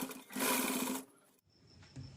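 A sewing machine stitches lace onto fabric along a stand collar in one close, steady whirring burst of about a second, followed by quiet handling noises.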